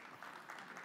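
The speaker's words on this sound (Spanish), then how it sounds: "Ahora sí, con un fuerte aplauso." A conference audience at a technical session on FTTH fiber technology gives a brief burst of faint, distant applause, a soft wash of clapping lasting under a second.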